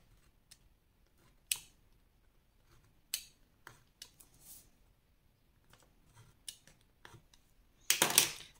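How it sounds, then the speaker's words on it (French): Scissors make a series of short, crisp snips cutting small notches into paper, spaced irregularly and heard close in a quiet room, ending with a brief flurry of rustling. "Ensuite, sur ces traits, vous allez couper."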